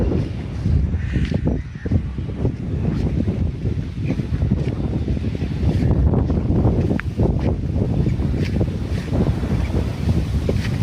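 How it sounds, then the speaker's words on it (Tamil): Strong wind buffets the microphone beside a pond in Jaffna, a loud, continuous low rumble with gusting surges throughout and no voices. "நல்ல காத்தடிக்குது"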